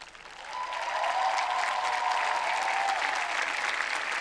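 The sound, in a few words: applause from graduating class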